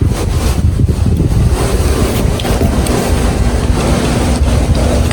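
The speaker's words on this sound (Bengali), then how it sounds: "দেখো গাছগুলো কি সুন্দর বাতাসে নড়তেছে একদম। অনেক বাতাসও আছে" A strong outdoor wind roars steadily through swaying trees, with heavy low-frequency buffeting against the microphone and a constant rushing noise over the full stretch, and no one talks.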